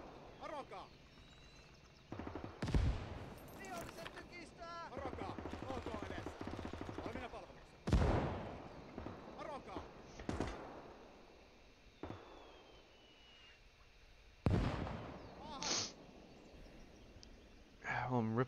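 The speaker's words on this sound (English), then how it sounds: "I'm ripping apart with machine guns" Bursts of machine gun fire ring out in the World War II strategy game Call to Arms: Gates of Hell Ostfront. The loud, sharp volleys come in several separate clusters, each fading quickly, with a voice talking between them.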